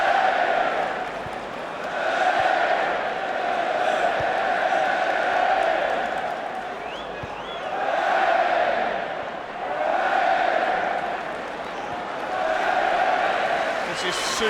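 Large football crowd at an Everton versus Arsenal Premier League match chanting olé, a broad roaring chorus that swells and fades in repeated waves across the stadium, loud and continuous.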